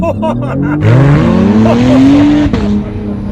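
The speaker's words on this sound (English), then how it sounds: "Foot on the brake, mash the accelerator. And release the brake." An Acura NSX in track mode launching from a standstill with launch control, the engine note climbing steeply through the gears with a loud rising whine and a brief shift break, close and dominant.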